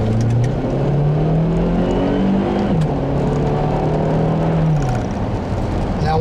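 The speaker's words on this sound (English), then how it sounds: "one of the first things I'm noticing is just how potent that turbo engine is" Turbocharged engine of a 2009 Acura RDX accelerating, a loud steady drone that climbs in pitch, briefly dips as a gear changes, then climbs again, heard from inside the car.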